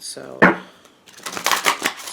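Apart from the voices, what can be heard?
tarot cards being shuffled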